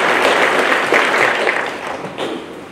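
Church congregation at an AIC fellowship in Kamagut claps together, a dense, steady wash of applause that fills the room and eases slightly toward the end.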